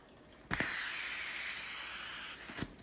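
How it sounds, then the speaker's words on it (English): A sudden hissing, gurgling spray of water in pipes in Subnautica starts abruptly, holds steady for about two seconds, then cuts off with a soft thump at the end. "What's that gurgling noise? It sounds like water"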